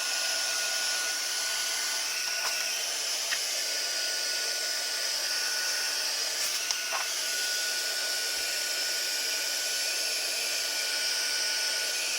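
A heat gun blows a steady, even hiss of hot air while heat-setting embossing powder on a Christmas bauble tea light card, running continuously and close throughout with no talk.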